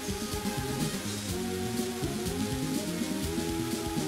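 Steady rain pours from the Rain Dance move in a Pokemon Light Platinum game, a constant hiss of falling drops under looping game music with no talking.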